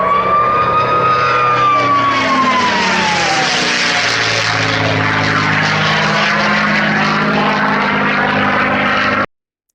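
A P-51 Mustang fighter's propeller engine roars loud and close, steady and droning with a gradual pitch shift as it passes, then cuts off abruptly.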